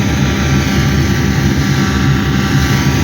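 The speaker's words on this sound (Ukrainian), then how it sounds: "Ось дивіться, як січкарня працює." A combine harvester's straw chopper runs steadily while harvesting lodged winter wheat in a dusty field, giving a loud, continuous mechanical roar with a deep drone and broadband whir that never lets up.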